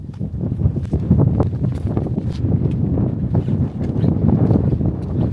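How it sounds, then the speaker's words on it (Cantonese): Steady, loud wind buffeting the microphone with low rumbling gusts throughout, no clear speech, on a mountain trail near Yarigatake in the Japanese Alps. "大風啊，吹到塊面"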